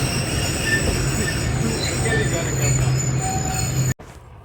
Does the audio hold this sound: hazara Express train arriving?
yes